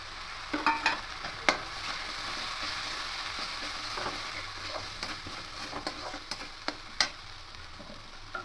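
Coriander, cumin and turmeric powder masala frying in a pan while being stirred, giving a steady close sizzle broken by scattered scraping clicks of the spoon, with no talking.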